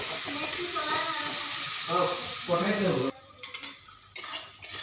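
Soaked spices go into a pan of fried onion and tomato over low-medium heat, with close scraping, stirring and utensil clinks against the pan over a steady sizzle that drops away partway through.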